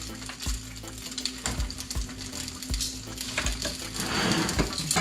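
Snapper frying in a small amount of oil on a barbecue over a flame, a close steady sizzle broken by periodic sharp pops and clicks.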